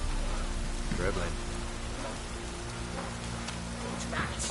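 Drizzling rain in The Witcher 3, a steady soft patter under a low ambient hum, with brief voice-like sounds partway through.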